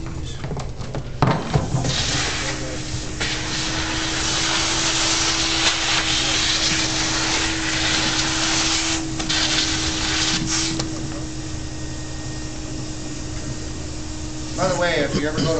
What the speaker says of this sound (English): Just turn that vacuum on again